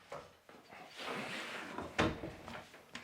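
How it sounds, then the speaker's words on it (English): A door with a loose doorstop swings and knocks shut indoors, with several soft thuds and one sharper bang near the middle, fairly close. "The door's closing on me."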